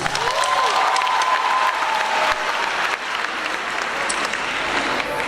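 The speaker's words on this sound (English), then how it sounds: "And give yourselves a round of applause." An audience at a Durban business fair applauds steadily, with a few faint cheers mixed into the broad wash of clapping; a brief tonal sound sweeps across early on.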